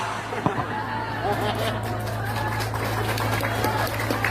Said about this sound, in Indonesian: Kenapa tepuk tangan Bu?